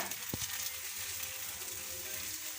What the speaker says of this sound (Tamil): ரெடி பண்ண மாவை அப்படியே நம்ம ஸ்ப்ரெட் பண்ணி விட்டுக்கலாம்.